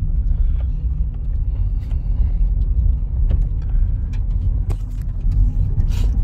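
Honda Jazz SE automatic on a slow test drive, its steady low road rumble and engine hum continuous throughout, with faint clicks and creaks from the cabin and no speech.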